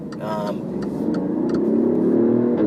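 A 2017 Alfa Romeo Giulia engine revs and climbs in pitch as the car accelerates, with someone talking over the rising drone.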